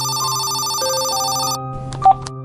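A telephone rings with a steady electronic tone, followed by a short click or beep as the call is picked up, loud and alone.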